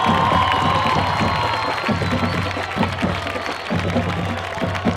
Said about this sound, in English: both schools a big round of applause